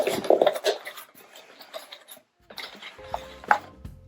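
Villeroy and Boch Mariefleur porcelain dishes, including a salad bowl, clink and scrape as they are unpacked, with light knocks and rustling at close range.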